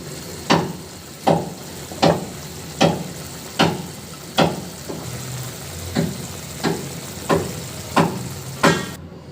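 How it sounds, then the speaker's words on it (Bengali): A pan of fish curry broth bubbling on the stove, giving regular soft pulses of bubbling and sizzling about once per second, steady and close, with no talk. "ঝোলটা ফুটতে শুরু করেছে"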